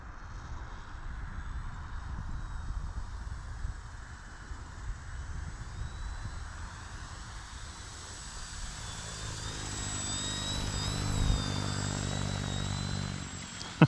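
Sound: Durafly AUTO-G2 V2 RC autogyro flying

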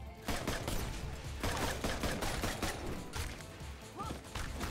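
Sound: sniper gunfire in the video game Full Metal Furies

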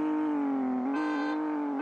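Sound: race car starting off, from the mobile game CSR Racing

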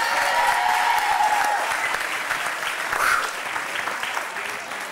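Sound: audience applause

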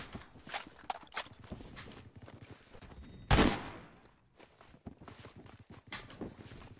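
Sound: gun firing in Phantom Forces video game

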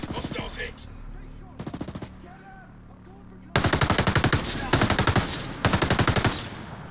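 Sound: gunfire in video game Ghost Recon Breakpoint

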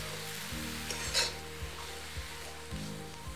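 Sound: roasting radish pods in a pan on high flame

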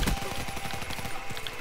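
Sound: gunfire in a video game

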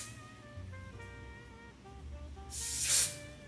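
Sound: adhesive spray being sprayed

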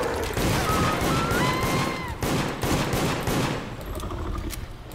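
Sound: gunshots in video game Deceit

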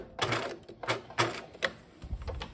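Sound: sewing machine back stitching a backpack lining seam

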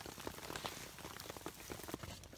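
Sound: hail and rain falling

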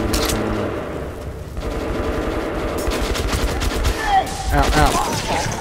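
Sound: machine gun gunfire in video game Metro Last Light Redux

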